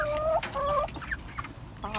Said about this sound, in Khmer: មាន់ឃ្លានហើយដឹង